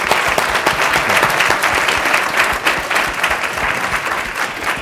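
Loud, sustained applause from a live audience at a panel discussion on economic inequality, a thick wash of clapping with slight swells, filling the whole stretch with no speech over it.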